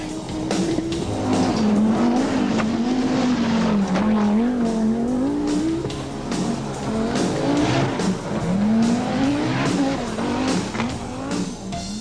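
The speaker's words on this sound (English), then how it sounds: "460 brake horsepower give the Sport Quattro spectacular acceleration" A 460-horsepower Audi Sport Quattro rally car accelerates hard, its engine loud and close, revving and shifting in repeated rising sweeps with tyre scrabble, continuous over twelve seconds.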